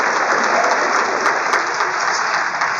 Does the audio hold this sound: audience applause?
yes